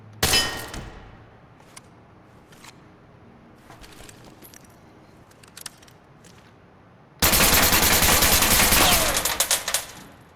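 Automatic gunfire in the Ready or Not tactical shooter game, a few scattered clanks and single shots early, then a loud sustained burst of rapid fire in the final three seconds, no talking.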